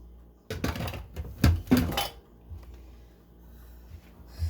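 Orange and raisins tumble into a mixing bowl in a few quick clattering, squishy bursts close by, then the sound settles into a quiet stillness.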